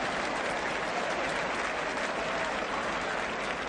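A stadium football crowd at a 1977 Wolves against Nottingham Forest match applauds a player, a broad, even roar of distant clapping and crowd noise filling the whole stretch.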